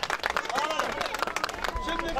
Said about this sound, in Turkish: Alkış alalım Hasan'a